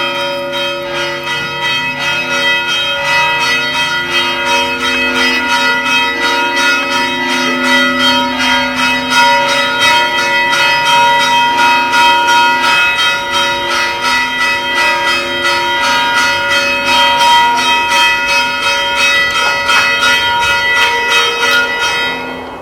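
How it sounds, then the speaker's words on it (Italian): Church bells ring in Aci Trezza, a coastal village near Catania, with a long, rich peal of overlapping rhythmic strokes that sustains loudly and evenly throughout, with no voices. "Il suono delle campane ci accompagna tra i vicoli colorati di Aci Trezza."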